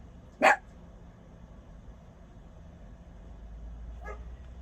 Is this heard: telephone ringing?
no